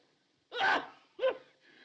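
A single sharp sneeze bursts out, followed quickly by a second shorter sneeze, close and fairly loud against a quiet background.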